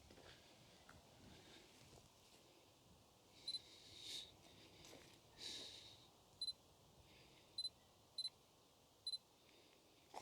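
A camera's self-timer gives a series of short, faint, high beeps at spaced intervals over a quiet outdoor background near a small bird feeding station.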